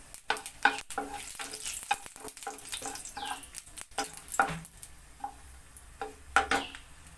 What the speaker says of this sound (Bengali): এখন এতে আমি অল্প একটু কালো জিরে ফোড়নে দিয়ে দিচ্ছি।